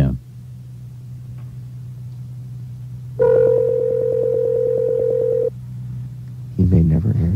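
A telephone rings unanswered during a prank call on a radio show: one long, buzzing ring burst over a steady low line hum, then a short bit of sound afterward.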